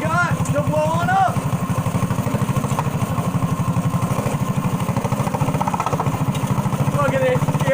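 A small go-kart or mini bike engine runs steadily at a fast, even putter, loud and close, with a brief rise in revs near the start and a voice talking over it.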